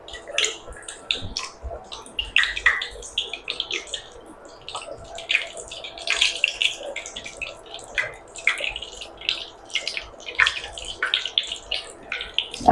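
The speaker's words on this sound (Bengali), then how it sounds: "উইংস ভেজে দেখাচ্ছি আমি।" Chicken wings fry in hot oil, a close, busy crackle of sharp pops and sputters that rises and falls in bursts over a soft bubbling bed, with no voices.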